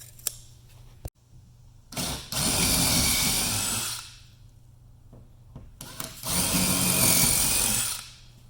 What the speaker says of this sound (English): You will use a 3/16" bit to drill these holes.